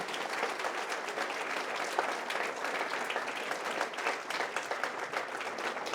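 An audience at a college interactive session claps steadily to welcome a guest, a dense, even patter of many hands that holds for the full stretch without talk.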